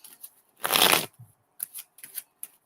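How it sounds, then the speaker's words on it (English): Tarot cards are riffled in one loud, close shuffle lasting about half a second, followed by several soft taps and flicks as the deck is handled. "Just getting a good shuffle and picking up on energy."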